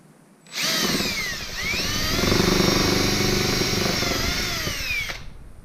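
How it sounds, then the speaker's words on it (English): A power drill whirs steadily for about five seconds, its motor pitch dipping briefly under load as it bores into wood, loud and close. "Now I'm going to put 2 pilot holes."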